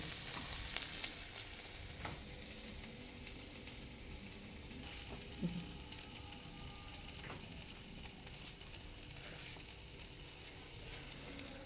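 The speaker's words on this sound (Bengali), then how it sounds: "আদা রসুনটা কষিয়ে নিয়ে আলুটা কড়াইতে নাড়বো।" Potatoes frying and being stirred in a wok with ginger and garlic, a steady close sizzle with occasional scraping stirs over about twelve seconds, no talk.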